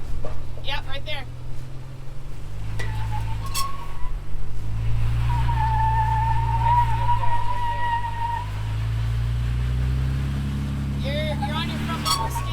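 Ford Bronco Raptor engine labouring as it climbs a rock obstacle on the Rubicon Trail, a steady low rumble that swells and eases with throttle under people talking, with a faint whine through the middle.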